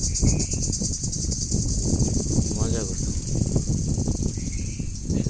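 A cricket trills continuously at a high pitch, a near and steady chirring outdoors that runs under a voice talking throughout.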